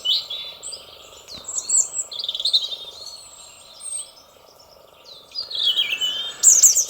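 Robin song outdoors near bird feeders: bright, warbling phrases come and go over steady faint background chirping, louder bursts near the start and end, no voices.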